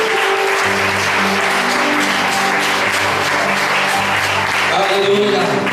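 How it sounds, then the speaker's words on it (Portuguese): A church congregation at a worship service applauds in a sustained, loud round of clapping, with voices and tonal sound running underneath throughout. "aplauda a palavra de Deus em nome de Jesus"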